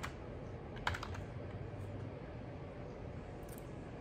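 Light typing on a computer keyboard, with quick soft key taps and one sharper clack near the start, sits close in a quiet room with faint background hum and no talking.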